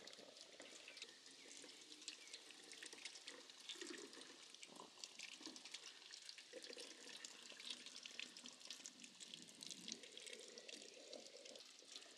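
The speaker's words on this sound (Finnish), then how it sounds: "Kuumaa vettä tulee." Hot water streams steadily from a tap into a sink, a continuous hissing splash that stays even throughout, with no voices.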